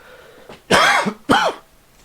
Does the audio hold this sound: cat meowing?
no